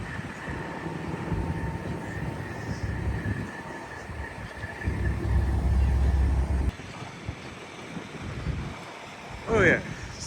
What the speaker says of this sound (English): It is super, super windy and super, super cold.